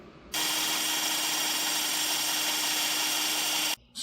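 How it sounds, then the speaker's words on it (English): An electric sander runs against a plastic chopping board being shaped into a seat pan for a BMW K75 cafe racer motorcycle, giving a steady, loud, hissing drone for about three seconds before it cuts off abruptly. "A little sanding involved."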